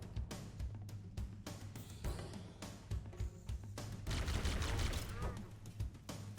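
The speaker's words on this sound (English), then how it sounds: "We're just gonna trade grenades." Heavy explosions and gunfire in Halo's final level, The Maw, as grenades are traded; dense, booming blasts and crackling shots pile up loudly for several seconds while someone talks over them.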